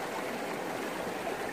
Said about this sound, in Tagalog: Ang lakas pa ng current.